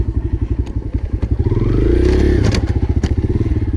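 Dirt bike riding in snow with a worn chain about to fall off, engine putting close and loud with repeated popping and clattering, revving up briefly in the middle.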